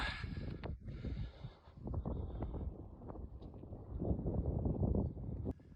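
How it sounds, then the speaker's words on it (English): Strong desert wind buffets the microphone in rumbling, gusting bursts, rising and falling continuously with brief dips before surging louder near the end. "It's very windy up here."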